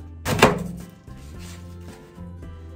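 A knife cuts through cabbage and carrots for a home hot pot, with one loud, close chop burst at the start followed by quieter cutting and rustling sounds; no one speaks.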